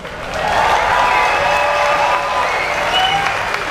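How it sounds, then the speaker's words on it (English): A crowd applauds a school carnival music performance, the clapping swelling in quickly and then holding strong and steady, with a few faint cheers mixed in. "Please give them one more round of applause."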